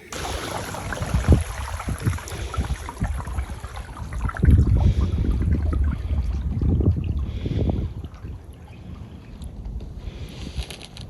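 A Crescent Shoalie kayak is paddled on open water, with soft splashing strokes in irregular bursts and light wind buffeting against the microphone.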